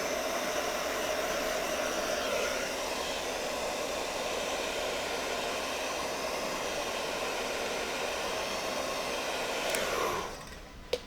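Heat gun blowing hot air onto the adhesive of a Tesla emblem: a steady, loud, close whooshing roar that runs without a break, then shuts off near the end.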